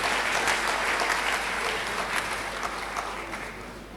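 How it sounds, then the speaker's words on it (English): An audience at the 175th anniversary celebration of PCE Akropong, Akuapem, applauds the government of Ghana with a steady, sustained round of clapping. The sound stays even and fairly distant throughout, with no one speaking over it. "a big round of applause"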